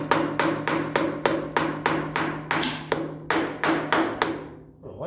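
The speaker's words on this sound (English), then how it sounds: "rubber mallet here" Rubber mallet striking a stuck part on a 1957 Ferguson FE35 Gold Belly tractor, a steady run of about a dozen sharp, ringing taps close by with a slight metallic tone, pausing briefly before the last few blows.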